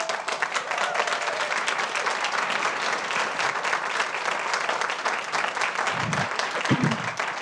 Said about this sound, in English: I can never hear over the clapping